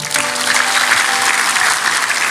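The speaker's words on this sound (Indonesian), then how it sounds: "Berikan tepuk tangan pada Tuhan." Congregation applauding during a church sermon service, a dense, steady wash of many hands clapping throughout, close and fairly loud.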